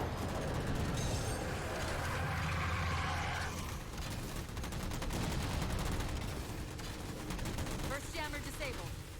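Rapid sustained gunfire in Halo 4 as targets are shot down, dense automatic bursts with mechanical clatter running loud and continuous for several seconds, with voices talking over the shooting.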